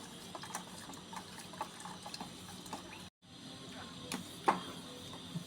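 Milk pours into a pot of cooked semiya payasam for a Kerala Vishu dessert, a steady close liquid trickle and splash that runs for several seconds, breaks off briefly, then resumes with a small clink.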